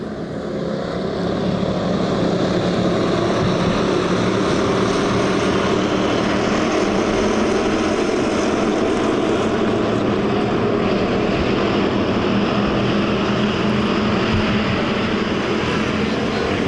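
Hobby stock race cars roar around the high-banked Thunderhill Speedway on a Sunday night, a loud, continuous engine drone from the pack that holds steady throughout.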